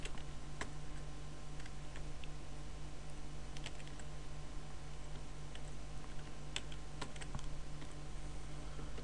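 A computer keyboard being typed on while a password is entered during a Windows PPPoE connection setup, with sparse, light key clicks spaced irregularly over a steady background hum.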